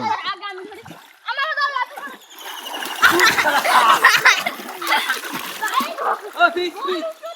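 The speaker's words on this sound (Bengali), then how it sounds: "সাঁতার কেটে লে যেন ওয়াটার পলো খেলতেছে" Village boys swim and splash in open water, rough splashing bursts building through the middle alongside children's shouts, chatter and laughter close by.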